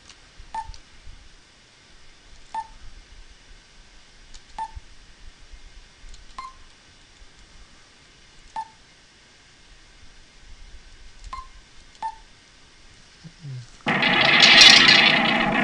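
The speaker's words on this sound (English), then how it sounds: "That's one weird elder calling sound." Eerie elder calling sound effect in the Illusion of Gaia video game, a faint series of regularly spaced electronic blips over quiet background, ending with a sudden loud burst of noise.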